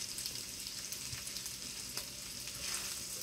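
Rice sizzles steadily in an electric skillet, a continuous dense frying hiss with a few soft clinks of stirring, close and fairly loud throughout with no voices.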